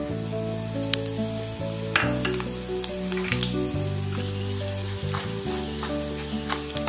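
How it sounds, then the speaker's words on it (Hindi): Whole spices, cumin and asafoetida sizzling in hot oil for Kashmiri dum aloo, a steady close crackle with occasional sharp pops and light stirring, backed by soft background music and no speech. "ये देखिए, ये हमारे खड़े मसाले जो है वो फ्राई हो गए हैं।"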